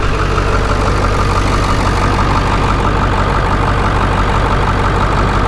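Ford 7.3 Powerstroke diesel engine idling with a cut exhaust, a loud, close, continuous rough rumble with steady clattering throughout.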